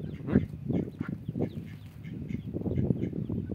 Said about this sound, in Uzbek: yovvoyi o'rdaklar bular